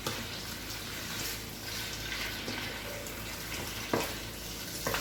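Bouillon frying in a pan for okra sauce, a steady soft sizzle throughout with a couple of faint clinks of a utensil near the end.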